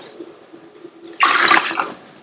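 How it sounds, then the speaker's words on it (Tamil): Water is poured into a pot of rice and moong dal for pongal: a short, bright splashing gush lasting about a second after a quiet moment. "இதுல 5 கப் தண்ணி சேர்க்கிறேன்."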